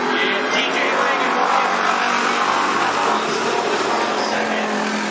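Race cars battling for the lead at Cottage Grove Speedway, a loud continuous engine roar from the pack circling the track, with a commentator talking over it the whole time.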